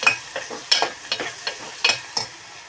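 Omelette mixture fries in a pan: a spatula scrapes and stirs in a steady rhythm of about ten close, crisp strokes over a light sizzle, with no voices.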